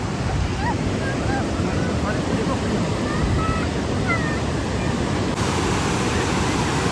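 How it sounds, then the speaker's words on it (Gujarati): A riverbank at dusk, river water running full and fast, a steady loud rushing wash that fills the scene close by, with faint voices mixed under it. "ફૂલ પાણી ચાલે છે"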